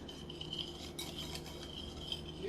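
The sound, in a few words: whisking mixture in a bowl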